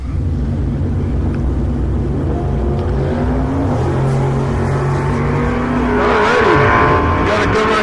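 Drag cars including a Duster race at TriState Raceway, engines roaring with rising gear-change whines that swell louder and closer toward the end.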